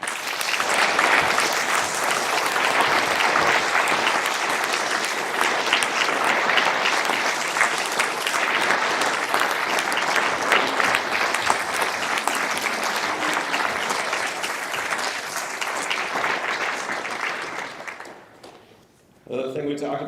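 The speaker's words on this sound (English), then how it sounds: "Please give him a round of applause." Sustained audience applause fills a military police welcome home ceremony, a steady dense wash of many hands clapping that runs for about eighteen seconds before fading out, with a voice returning at the very end.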